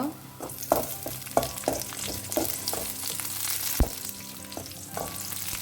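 Green chillies fry in hot oil with ginger, garlic and onion, a continuous close sizzle broken by repeated sharp scrapes and clinks of a spoon stirring against the pan.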